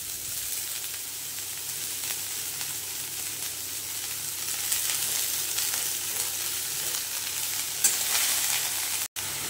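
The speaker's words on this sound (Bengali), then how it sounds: "বন্ধুরা, কড়াইতে ঘিটা সমপরিমাণে গরম হয়ে গেছে। এইবারে দিয়ে দেবো এই কুচিয়ে রাখা বাঁধাকপি।" Chopped cabbage frying in hot ghee makes a steady, close hiss with light stirring scrapes, growing a little louder midway before cutting off briefly near the end.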